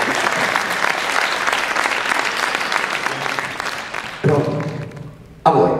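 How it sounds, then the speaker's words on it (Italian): An audience at a fencing club exhibition in a cinema breaks into loud, dense applause that carries on for several seconds, fades, then a sharp thud and a brief final burst of clapping at the end. "Applauso, bravissimo."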